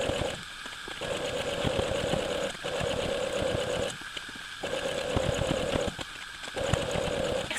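Sewing machine stitching through quilt layers in the seam line, a steady close mechanical whir with brief stops and restarts, no talking.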